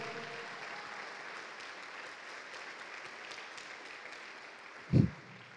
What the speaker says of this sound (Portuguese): Aplauda Jesus por isso, querido, se você pode.